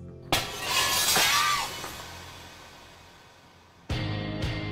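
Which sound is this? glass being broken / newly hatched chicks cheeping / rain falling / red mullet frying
glass being broken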